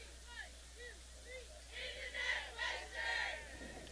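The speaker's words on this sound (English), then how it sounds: "Cheers of In the Net Western from the crowd" Crowd at a women's college soccer match, Western Washington versus Central Washington, cheering and chanting in rising surges after an in-swinging corner, broadband swells of voices with a distant announcer-like voice underneath.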